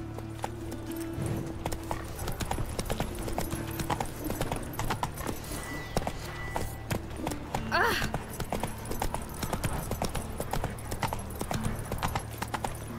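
Horse hooves clip-clop steadily at a gallop in The Witcher 3 open-world game, a continuous rhythmic beat throughout with game music and brief voices over it.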